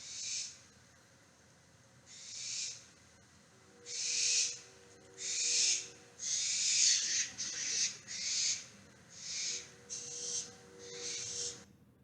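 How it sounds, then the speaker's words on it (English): Barn owl chicks hiss and screech in repeated loud bursts as prey is delivered, several harsh rasping calls in quick succession, close by, with no talking. "This is what it sounds like when there's a prey delivery."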